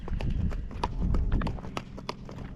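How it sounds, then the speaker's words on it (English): A Spotted Saddle Horse, a shod, gaited horse that sometimes stumbles, moves along with close, clear hoof clip-clops in an uneven, quick rhythm over a low rumble, with no talking. "his back leg comes off the ground, then the front leg comes off the ground, and the back leg lands and the front leg lands"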